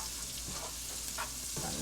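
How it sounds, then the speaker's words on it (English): Shallots fry in a pan for a pork Marsala, giving a quiet, continuous sizzle with a few soft stirring knocks and no voices. "you're going to go ahead and add in your shallots"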